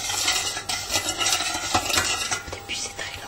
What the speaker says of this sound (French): Et vous remuez doucement en attendant que la sauce s'épaissit.